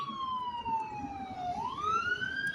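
Emergency siren wailing at moderate distance, its pitch sliding down and then sweeping back up in one continuous cycle over faint background noise.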